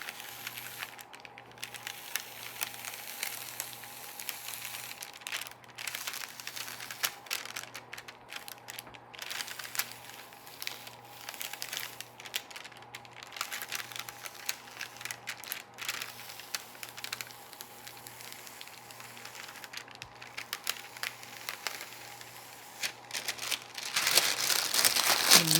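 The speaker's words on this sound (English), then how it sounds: "So I'm gonna carefully finish peeling this away." Backing paper peeled slowly off an iron-on patch on a shirt, a long, close stretch of soft crackling and crinkling with small ticks, growing a little louder near the end.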